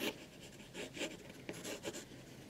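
Graphite pencil sketching on paper, laying out a basic composition for a watercolor study, heard as soft, close scratchy strokes in short irregular bursts with no talking.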